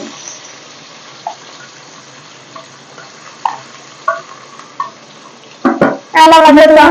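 Green chillies fry in hot oil in a pan, giving a low, even sizzle with a few light clinks of a spoon before a sudden louder burst of hiss at the end.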